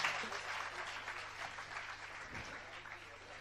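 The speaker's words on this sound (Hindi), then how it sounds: "जरा जोरदार तालियां बजाइएगा अनुमोदना स्वरूप" Faint, steady applause from an audience at a Hindi religious discourse, a soft granular patter held evenly for a few seconds with a low hum beneath.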